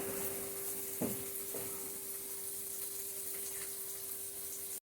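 Water pours into a pan of spice masala for a vegetarian potoler dhokar dalna, a steady close gurgling rush with a faint hiss and a soft splash near the start, cutting off sharply at the end.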